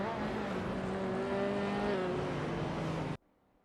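Sportscars racing at Road Atlanta in a racing game, with a Porsche among them: a loud sustained engine drone with steady pitch and a slowly falling whine that cuts off abruptly near the end, leaving quiet.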